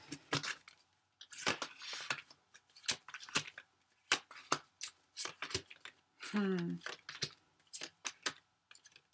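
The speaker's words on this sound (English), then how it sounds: "one more shuffle, and then we're doing a star spread" Tarot cards are shuffled in quick, crisp bursts of riffling and tapping, fairly close and quiet, with a short stretch of speech partway through.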